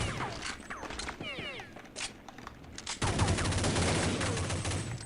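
Gunfire in Counter-Strike Online, scattered shots and short bursts among metallic mechanical clicks, then a louder sustained stretch of rapid fire in the second half, with faint voices in the background.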